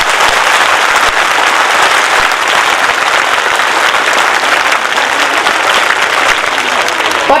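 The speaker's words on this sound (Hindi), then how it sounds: "एक बार जोर ताली हो जाए सैनिकों के नाम।" Loud, dense applause from a school audience at a Republic Day function, clapping in honour of soldiers: a steady, crackling wall of claps, unbroken from start to finish.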